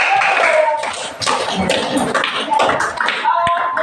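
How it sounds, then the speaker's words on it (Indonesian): A classroom group of students and teacher claps hands together after a class clean-up, a loud, close burst of uneven clapping with short pauses and some voices mixed in. "Yuk, tepuk tangan untuk kita semua yang sudah melaksanakan."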